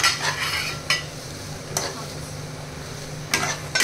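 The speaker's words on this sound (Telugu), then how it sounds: "ఫైనల్ టచ్కి కొత్తిమీర వేసుకొని ఒకసారి మిక్స్ చేసేసి" Coriander being stirred into pasta in a pan with a few scraping strokes of a spoon against the pan over a low steady background hum, close and moderately loud.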